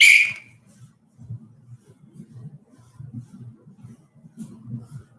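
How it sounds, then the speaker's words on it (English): During a martial arts class, a whistle gives one short, loud, piercing blast at the start, followed by quiet, indistinct talking. "Wait until you hear the second whistle."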